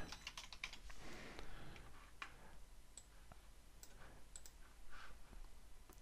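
Quiet, rapid keystrokes on a computer keyboard as text is typed, a steady patter of soft clicks with a few sharper taps over faint background hiss.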